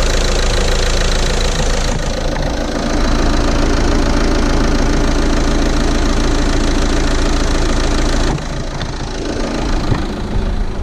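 A diesel HDI/dCi car engine runs steadily at idle close by, loud and continuous with a rough knocking clatter, a slight dip in level near the end.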